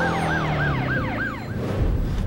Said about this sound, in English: if you have your siren on, other cops should be able to just join right in